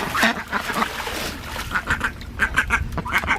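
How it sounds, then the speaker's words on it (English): Pet ducks quack repeatedly in a backyard, in short irregular bursts, some close and loud and others softer, with no clear talking. "they follow me all over the yard, and they start quacking and talking and want to be right next to me"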